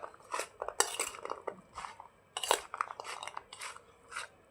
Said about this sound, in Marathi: आता आपण मस्त असं व्यवस्थित ढवळून घेऊया